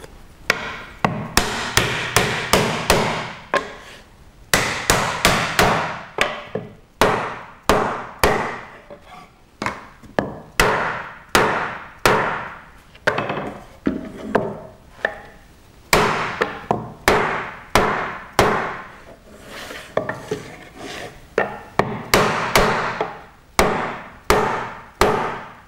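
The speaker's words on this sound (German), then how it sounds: "dann klopft ihr mit einem Hammer und einer Zulage die Schublade richtig fest zusammen" A hammer strikes a wooden block over and over to knock hand-cut dovetail drawer joints together, in a steady, irregular rhythm, sharp and close, with brief pauses between bursts of tapping and no talking.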